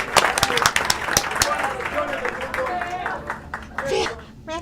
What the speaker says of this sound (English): Applause, applause, Abuhay.